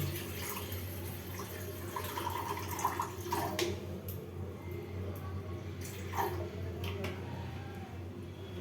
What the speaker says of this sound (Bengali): এক কাপের মতন চায়ে জল দেবো